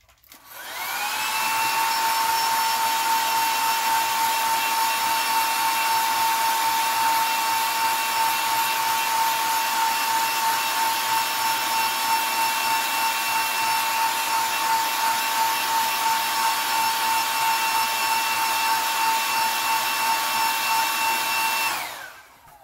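A heat gun blows steadily for about twenty seconds while heat-setting paint on a custom-painted shad-pattern crankbait, a loud, even whirring hiss with a high whine that stops abruptly at the end.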